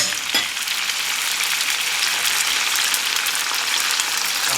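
Potatoes frying in butter in a hot pan, a dense, even crackling sizzle that holds steady throughout, close and fairly loud, with no one speaking.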